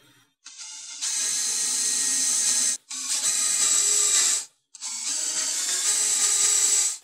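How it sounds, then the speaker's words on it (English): A power drill whirs in three long bursts with short pauses between, close and loud, a countersink bit grinding steadily into a wooden heel strip. "next I'm going to pre-drill 3 screw holes with countersinks in this heel strip"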